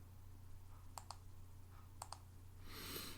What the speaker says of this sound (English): I'm going to click outside of the workbook